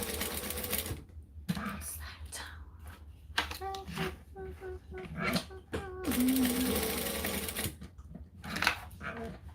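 A sewing machine runs in short stop-start bursts while stitching a zigzag box, with a person talking intermittently close by.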